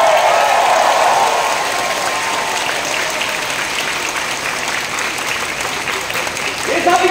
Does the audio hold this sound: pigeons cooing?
no